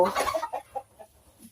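A brooding hen sitting on eggs in a nest on a small Thai farm clucks close by: a busy burst of clucking, then a few spaced, softer clucks trailing off.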